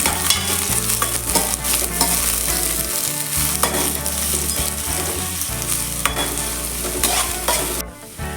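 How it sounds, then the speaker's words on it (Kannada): Onion frying in coconut oil for Mangalore-style kadle sukka, a steady loud sizzle with stirring throughout, under a continuous bed of background music, ending in a brief quieter moment. "ಕೊಕೊನಟ್ ಆಯಿಲ್ ಹಾಕಬೇಕು ಒಂದು ಈರುಳ್ಳಿ ಫ್ರೈ ಮಾಡಬೇಕು"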